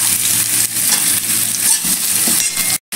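Onion added to a pan of frying potatoes gives a loud, steady sizzle and crackle with light stirring, close by, broken by a brief gap near the end.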